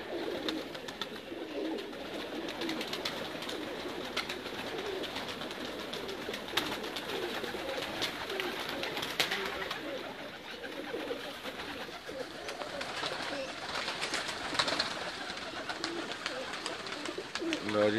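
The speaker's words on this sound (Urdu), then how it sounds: "چوئی صاحب کے شاندار کبوتر" Breeder pigeons cooing in a loft, with repeated soft throaty coos layered over one another at close range against a busy background hum.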